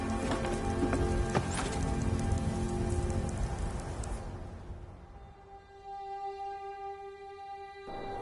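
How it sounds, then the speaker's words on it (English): Steady rain patters on surfaces in Skyrim, loud at first, then fading as a soft tonal ambience with clopping hooves takes over. "Why is it always raining?"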